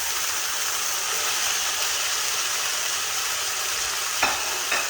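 Vegetables stir-frying in a hot pan with ginger and garlic paste, giving a steady broadband sizzle throughout, with a couple of brief scraping knocks near the end and no talk.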